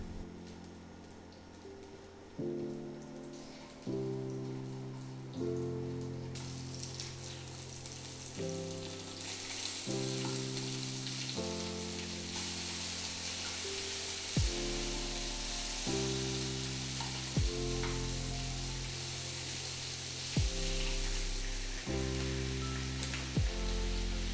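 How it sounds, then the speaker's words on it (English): Garlic, onion and peeled sausage sauté in a single pan, giving a steady sizzle that grows fuller partway through and plays beneath prominent background music, with no one talking. "let's saute our garlic, onion, and our peeled sausage, of course"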